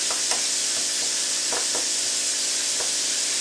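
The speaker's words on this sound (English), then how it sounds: "Whisk it up. Get that egg beat up in there." An egg is whisked into cornbread batter in a bowl, soft rhythmic scraping strokes repeating at close range over a steady hiss.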